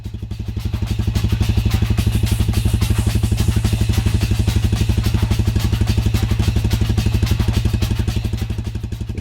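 A Royal Enfield Classic 350 running with a cheap aftermarket silencer, its single-cylinder engine thumping in a steady, rapid, even beat, loud and close, holding a constant idle throughout.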